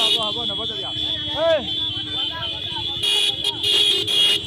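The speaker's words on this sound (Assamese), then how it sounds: "ৰাস্তাটো ঠেক আৰু পুৰা হৰ্ণ বজাই আছে" Car horns blare repeatedly, some long and sustained, on a busy narrow village road while people talk over the noise.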